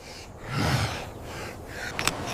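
Heavy, gasping breaths from a prehistoric hunter just after killing prey with a sharp stone tool, a few ragged inhales and exhales up close with no talking.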